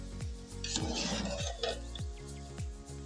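Carrot halwa with sugar stirred in a pot, a spoon scraping and clinking against the metal in a steady rhythm of soft squishy strokes, close and fairly loud, with no talk.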